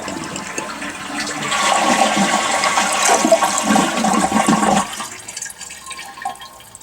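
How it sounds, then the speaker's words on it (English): A household toilet flushes with a loud rushing swirl of water that builds, holds steady for a few seconds, then drains away into quieter trickling and refilling. "We're going to flush the toilet, get all the water out"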